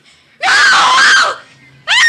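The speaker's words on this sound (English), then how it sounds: "A woman screamed and cried for help on the Wayfield Common" A woman screams and cries for help in a 1952 radio crime drama, one long, loud, wavering shriek followed after a brief gap by the start of another.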